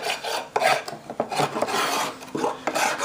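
Wax being scraped off the bottom of a wooden beehive frame by hand, with repeated close rasping strokes in an uneven rhythm and no talk.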